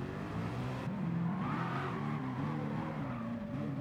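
Gr.1 race car in Gran Turismo Sport running off the track at Circuit de la Sarthe after a missed braking point, with a steady engine drone and rough, scrubbing tire noise over loose surface, loud and continuous with no talk.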